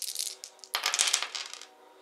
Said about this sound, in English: he gets to roll all 4 dice